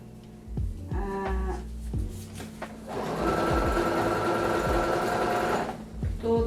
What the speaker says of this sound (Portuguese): vamos fazer a costurinha, um pouquinho pra dentro